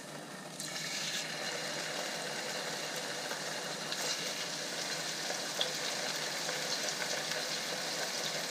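Catfish pieces fry in a pan before going into a sweet and sour soup, a steady, close sizzling hiss that begins just after the start and continues evenly throughout, with no talking.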